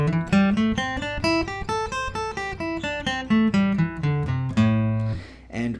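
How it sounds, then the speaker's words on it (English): Guitar plays a pentatonic scale pattern as a clear run of single plucked notes in an even rhythm, each ringing briefly before the next, ending on a longer sustained note. "you take this simple pentatonic scale pattern that looks and sounds like this"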